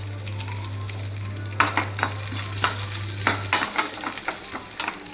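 Raisins fry in a pan with cashews as milk sweet is made, giving a steady sizzle with repeated close stirring scrapes and a low hum that stops partway through.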